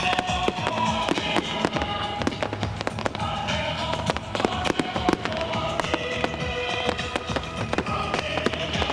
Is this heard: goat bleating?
no